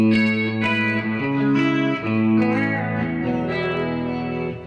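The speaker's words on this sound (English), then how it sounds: "I can put chorus on it or whatever" Electric guitar played through a chorus effect in a studio, sustained chords and bending notes ringing out with a shimmering, swirling tone, close and fairly loud with no voices.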